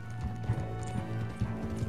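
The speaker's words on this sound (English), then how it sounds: "Get on the fucking horse!" Hooves of a galloping horse in Red Dead Redemption 2 drum in a quick, uneven rhythm, close and moderately loud, with a faint snort and game ambience underneath.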